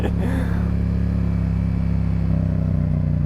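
Motorcycle engine held at a steady, droning rev during a wheelie on a small group ride, loud and close with a constant buzzing hum and no clear rise or fall, with faint background noise throughout.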